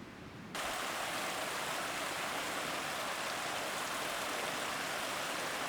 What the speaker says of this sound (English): This creek doesn't show up on my map data, but I thought I remembered it from last year.